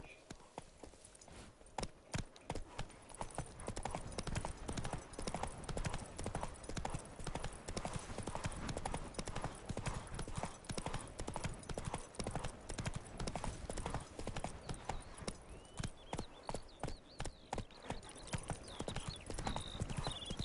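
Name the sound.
horse hooves galloping in The Witcher 3 video game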